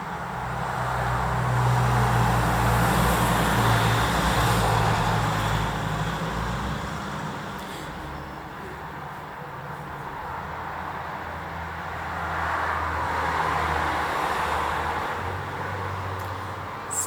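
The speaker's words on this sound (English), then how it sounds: "So that's it from me and all the traffic on my street." Street traffic rolls past in a continuous low rumble, with passing vehicles swelling and fading over a steady background hum at moderate distance.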